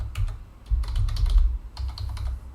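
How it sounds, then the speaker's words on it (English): Keys clatter on a computer keyboard as a pre-shared key is typed, two close bursts of quick keystrokes separated by a short pause, heard on their own. "here we'll just type that pre-shared key."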